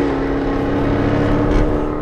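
The supercharged V8 of a 2024 Jaguar F-Type P575 R75 convertible accelerates in a steady, loud, droning engine tone with strong harmonics, close up and free of speech.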